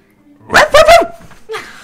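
A dog gives three quick, loud barks close by, then a softer yip after a short pause, with little else around it.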